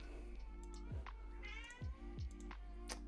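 A cat meows several times in quick succession, short falling calls that are close but quiet, over a steady low electrical hum.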